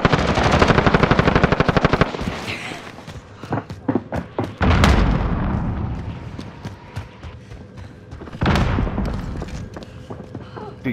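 Heavy automatic gunfire in a shooter video game, long loud machine-gun bursts with scattered single shots and thumps between them, close and intense.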